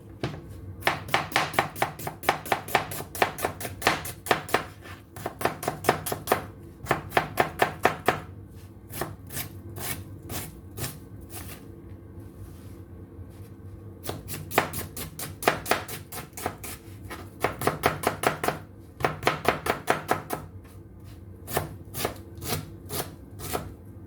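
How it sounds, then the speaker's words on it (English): Rapid knife chops on an onion on a cutting board in quick bursts with short pauses between, crisp and close, no talking. "let's start chopping, slicing, dicing all these ingredients"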